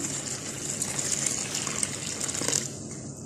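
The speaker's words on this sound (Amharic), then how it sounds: "ከዛም ትኩስ ውሃ ጨምርበታልና" Hot water pours in a steady gush over raisins in a bowl, a continuous close splashing rush that tapers off near the end.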